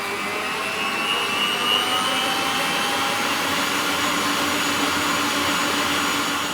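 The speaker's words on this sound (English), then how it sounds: "we'll turn it up and we'll let that whisk until it comes to a soft peak" An electric mixer whisks meringue toward soft peaks, a loud continuous close-up motor whir with a steady high whine, unbroken for the whole stretch, no voices.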